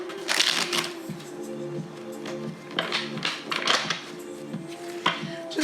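Tarot cards being shuffled for a reading, a run of quick papery riffles and flicks coming in bursts, close and fairly quiet, with soft knocks between them and no talking.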